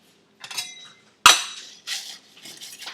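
Porcelain cups and metal spoons clink sharply while Earl Grey tea is mixed, with a few soft taps followed by one loud bright chime and several lighter rattling clinks nearby.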